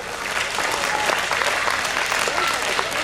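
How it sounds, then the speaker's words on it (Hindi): Loud, sustained audience applause at a winter fest stage show, dense continuous clapping filling the hall from start to finish with a few voices mixed in. "हम पुनः जोरदार तालियों से आप सभी का स्वागत करते हैं"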